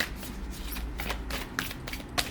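A deck of cards is shuffled during a tarot reading, with soft riffling flutters and several quick slaps of the cards, quiet and close with no talking.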